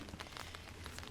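Rain falling steadily outdoors on the Camino Portugués, a soft continuous hiss of drops with faint patters, quiet and even throughout.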